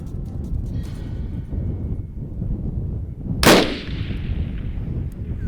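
A single loud rifle shot fired at an antelope in open country cracks out sharply midway through, its echo trailing off over a steady wind-like background rumble, with no talking.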